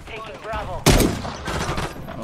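A single sharp sniper shot cracks out in Modern Warfare 3, loud and close, with a short echoing tail, while people talk before and after it.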